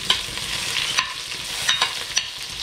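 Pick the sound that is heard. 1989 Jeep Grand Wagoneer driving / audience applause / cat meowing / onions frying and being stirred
onions frying and being stirred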